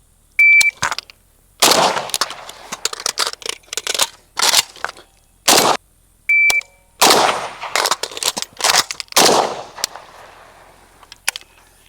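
AK rifle reload drill outdoors: a shot timer's high beep starts each string, followed by loud, sharp gunshots in quick bursts, gaps for magazine changes, then another beep and more rapid fire.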